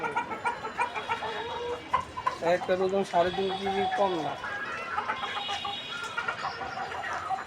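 Several chickens cluck and squawk close by, with someone talking over them throughout.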